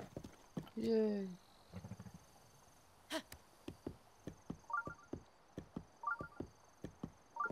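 Horse hooves clip-clop in Zelda: Breath of the Wild, a steady run of light, evenly spaced steps that follows a short cheerful voice and a brief whinny-like call near the start.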